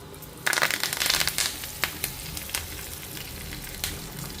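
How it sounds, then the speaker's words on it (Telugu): Mustard seeds, cumin, dried chilli, asafoetida and curry leaves fry in hot oil for a tempering, giving crackling pops early on and then a steady, close sizzle, with no voices. "సో ఇది పోపు కొంచెం ఎర్రగా వేగగానే మనం పోపేసేసుకోవాలి"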